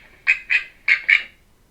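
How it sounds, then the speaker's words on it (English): A duck gives four short, bright quacks in two quick pairs, close and clear against near silence, used in a children's English listening lesson. "it's a yellow duck"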